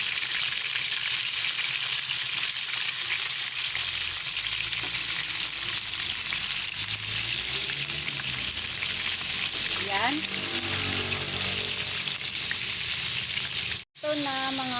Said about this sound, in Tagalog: Kailangan natin mga kakusin iprito yung pork para masarap siya.